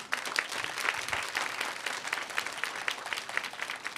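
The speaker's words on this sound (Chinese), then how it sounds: "再次拍掌，把荣耀归给他。" A church congregation claps together during a worship service, a dense, steady burst of applause that fills all four seconds at close range, with no voices over it.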